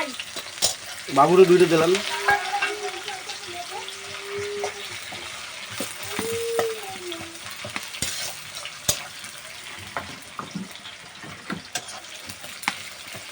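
Garlic and onion fry in a pan for a village-style jackfruit curry, a steady close sizzle with stirring and utensil clinks, while someone talks briefly over it and other voices murmur faintly.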